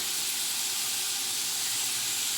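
Onions frying in a pan for ghee chicken biryani give off a steady, even sizzle and hiss that holds without a break. No one speaks over it.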